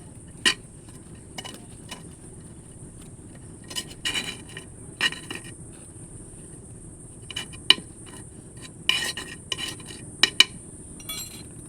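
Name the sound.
spoon scraping soil loose around a plant's base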